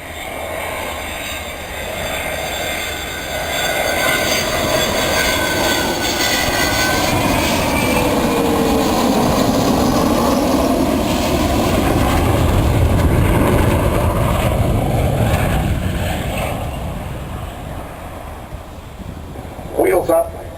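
An Avro Vulcan XH558 jet bomber takes off at an RAF Waddington display, its engines building into a broad, loud roar that rises and holds before easing, with a commentator's voice over the noise.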